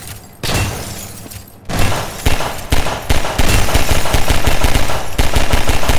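Rapid automatic gunfire and shattering glass as a mirror is shot up in Garry's Mod played in VR, loud and sustained bursts with sharp breaking cracks, no talk over it.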